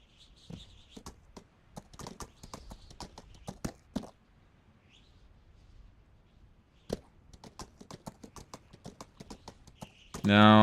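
A horse gallops in a Skyrim modlist game, its hooves striking in quick, crisp clusters of clip-clop thuds with short pauses between, fairly quiet, followed by a sudden louder burst at the end.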